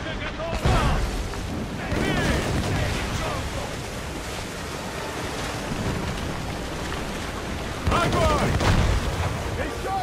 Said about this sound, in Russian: Мортиры, Шей. Мы у них прямо по курсу!